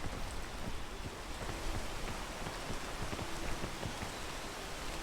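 Steady rain falls in the video game Peak, a dense, even hiss of drops spread across the whole clip with no voices over it.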